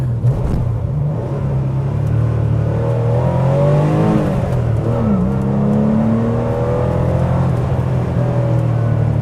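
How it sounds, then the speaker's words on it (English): A sports car engine revs up through rising gears, a throaty growl climbing in pitch, with steady road rumble underneath. "Let's give it a little acceleration."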